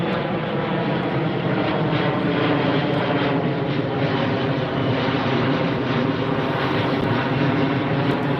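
A jet airliner climbing steeply after takeoff from LAX gives a steady, loud engine roar that holds constant throughout, with no voices.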